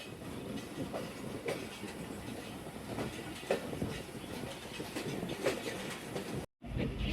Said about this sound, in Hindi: 6:01 पे हमारा डिपार्चर हो चुका है चक कम्बो फ्लैग स्टेशन से।